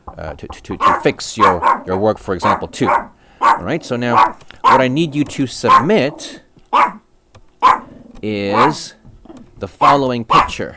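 A pet dog barks briefly indoors, its barks partly buried under a person lecturing steadily throughout.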